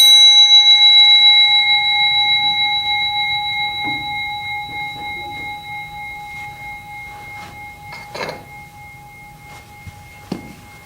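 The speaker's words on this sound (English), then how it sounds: "Don't move until you can't hear the sound of the bell anymore" A single struck bell rings out with a clear, sustained tone that slowly fades toward silence, with a few faint soft knocks near the end.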